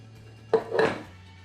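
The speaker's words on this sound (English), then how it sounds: "now I dump tomato sauce in here" Tomato sauce poured into a cooking pot for chili, two quick close clanks and a short wet slop against the metal, then a low steady hum from the kitchen.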